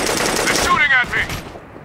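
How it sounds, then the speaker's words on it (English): Sustained automatic gunfire in the military shooter Operation Flashpoint: Red River, a loud dense rattle of rapid shots that fades out toward the end. "They're shooting at me."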